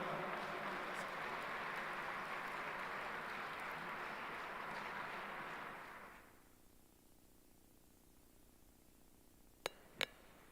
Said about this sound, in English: please put your hands together and welcome with a round of applause